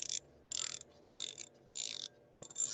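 A fine-tooth mini 3/8 drive ratchet cranked in five short bursts of rapid, crisp clicking, each separated by a brief pause, quiet and close with no other sounds.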